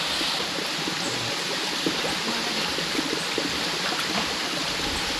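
A Caribbean waterfall and stream on St. Vincent pour and rush steadily, a loud, broad wash of water close by with small splashes and no letup.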